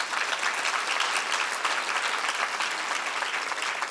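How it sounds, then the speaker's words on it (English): Conference audience at a global health leadership event clapping for volunteer organizers, a thick, continuous roar of applause from a large crowd, steady and unbroken for several seconds. "let's give them a round of applause"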